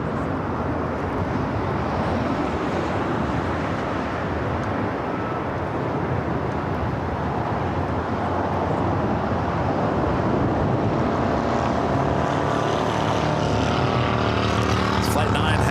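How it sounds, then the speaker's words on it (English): A Hawaiian Airlines Airbus A330-200, Flight 9 bound for Honolulu, rolls down runway 24 Left at LAX on takeoff, a loud, steady broadband jet roar that holds throughout and swells near the end. "We got a Hawaiian A330 rolling it down that 24 left."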